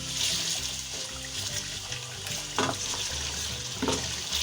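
Chicken liver masala frying with ground coriander in a pan, a steady close sizzle with occasional stirring scrapes and a low background hum.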